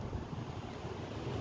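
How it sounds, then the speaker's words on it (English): Strong wind outdoors, a steady broadband rush with low rumbling buffets against the microphone and no pauses or speech throughout. "I think it may be too windy"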